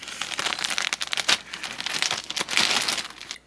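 Plastic bags holding doll clothes crinkle and rustle close up in quick, uneven bursts for a few seconds, with no one talking.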